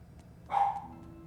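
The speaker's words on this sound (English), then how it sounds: "Your barking is a bit loud today for some reason." A dog gives one short, fairly faint bark partway through, standing alone over a low steady background hum.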